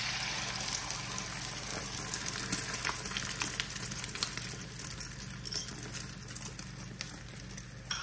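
Egg, ricotta cream and olive mixture hits a hot pan and sizzles steadily and softly, a continuous frying hiss with light crackle at close range and no talking.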